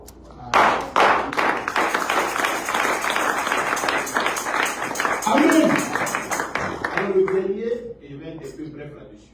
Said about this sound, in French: Et je voudrais qu'on acclame fortement.